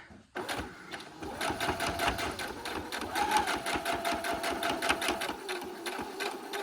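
A sewing machine stitches a straight line through fabric, giving a fast, steady mechanical clatter with an even needle rhythm. It runs close and continuously, with no talking over it.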